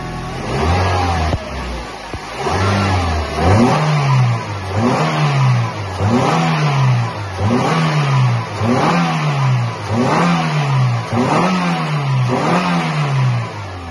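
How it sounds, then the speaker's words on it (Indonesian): Toyota Corolla Altis engine with an idle speed stuck around 2000 rpm. After a short start, the throttle is pulled about ten times in regular rising-and-falling revs, loud and close, with no speech. "Kita akan coba tarik gasnya ya."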